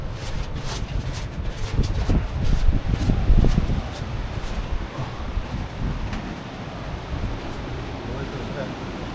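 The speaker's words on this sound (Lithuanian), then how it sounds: "Gerai vėjukas pučia, ne?" Wind blows across a New Zealand beach, a steady low rumble of gusts buffeting the microphone for the whole stretch, swelling briefly in the middle with no clear talk.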